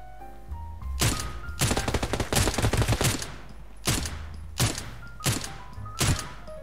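Gunfire in the shooter game Knives Out comes as loud, close bursts of rapid automatic shots. A long flurry is followed by several shorter separate volleys, with no talking.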